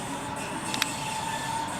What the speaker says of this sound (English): We have this break here waiting for the train on these back roads.